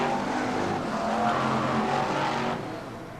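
BriSCA Formula 1 stock cars racing on the Skegness oval in 1994, with engines roaring loudly and continuously as the pack drives for the chequered flag, then easing slightly toward the end.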